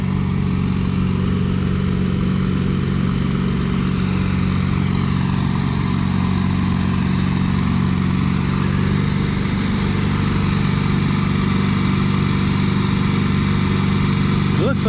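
A 2255 Caterpillar tractor with a 3208 Turbo engine pulls at a vintage tractor pull, its steady low diesel drone running loud and continuous throughout, with voices mixed in.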